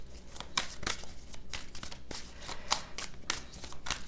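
A deck of tarot cards being shuffled by hand, heard up close as a run of crisp, papery riffles and flicks in a quick, uneven rhythm.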